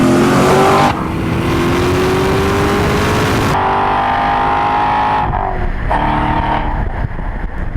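A 2014 Chevrolet C7 Corvette Stingray with its LT1 V8 revs hard and loud up close, the deep throaty note climbing through gears in long sweeps with brief shift breaks and road roar underneath, no talk over it.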